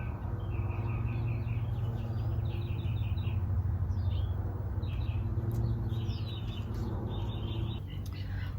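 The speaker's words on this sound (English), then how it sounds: "When you hear the birds singing" Several birds sing and chirp in a home vegetable garden with blueberry bushes, repeated bright trills and tweets spread across the scene over a steady low hum of distant city traffic.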